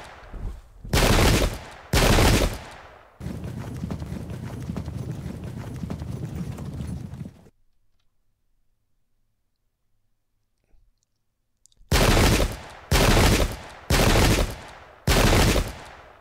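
Musket volleys in the strategy game Pike and Shot: loud, blunt bursts of gunfire in spaced clusters, a long crackling rattle, then a silent gap and four more heavy volleys at a regular beat.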